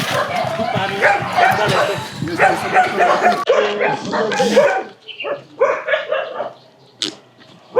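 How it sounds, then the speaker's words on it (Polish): Many dogs bark at an animal shelter in Cambodia. The barks and yips are loud and close, overlapping densely and then thinning into scattered single barks and whimpers, with people talking among them. "Psy szczekają."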